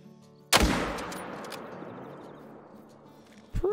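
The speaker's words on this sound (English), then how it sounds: "I tried shooting through the bushes there." A single loud rifle shot fired at a buck from behind bushes in the hunting game theHunter Call of the Wild booms close by and rolls off in a long fading echo, with a second sharp report or impact at the end.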